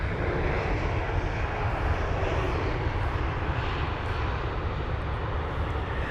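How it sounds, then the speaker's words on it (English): A Lufthansa Airbus A320neo at London Heathrow gives a loud, steady jet-engine roar that fills the whole stretch without breaks, with no voices over it. "the last two A320 Neos, they did give us a bit of a Wookiee, a slight Wookiee"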